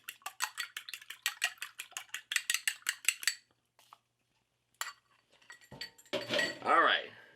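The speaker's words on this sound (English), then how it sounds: "And last but not least, 1 egg. Beat it like I stole a nickel from you." A fork beats a single egg in a bowl with a fast, rhythmic run of bright clicking taps, then stops; a few scattered clinks and a short voice follow.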